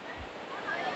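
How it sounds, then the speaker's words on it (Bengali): Sea waves roaring at Puri beach at night, a low continuous rumbling wash with wind, steady and moderately loud over the short moment. "সমুদ্রের গর্জনটা খালি শোনো তোমরা"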